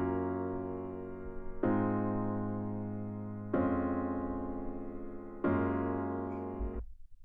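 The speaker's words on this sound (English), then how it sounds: "grabbed this major chord progression, and it sounds like this." Four sustained major chords played one after another from a synth MIDI pack, each struck cleanly and ringing with a slow decay, a bright layered tone filling the space with no voices.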